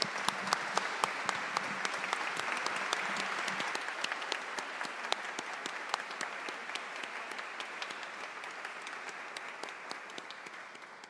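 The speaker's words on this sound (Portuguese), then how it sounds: "eu vou pedir uma salva de palmas a todas nós" An audience at a formal ceremony honoring women applauds loudly with dense, sustained clapping that gradually tapers off toward the end.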